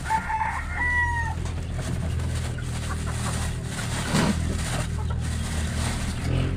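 Chickens cluck and a rooster crows in a Filipino poultry yard, moderately near over a constant low rumble, with a brief vehicle-like swell in the middle.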